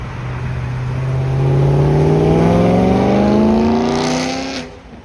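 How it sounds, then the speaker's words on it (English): A loud BMW car passes on a city street in North York, Toronto, its engine rising in pitch as it approaches and swells close by, then fading quickly as it moves away. "Wow, that car was loud. That BMW."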